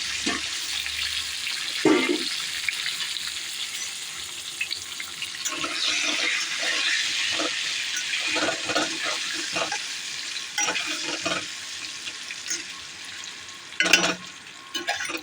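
Potatoes fry in hot oil seasoned with turmeric and salt, a steady close sizzle with scattered spits and crackles as the pieces go in, plus brief stirring clatter, with no voices.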